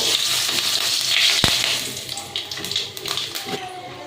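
Bay leaves and dried red chillies stirred in hot oil in a pan for a vegetarian Bengali pointed gourd dish, a loud hissing sizzle that fades, broken by a sharp utensil knock and scraping.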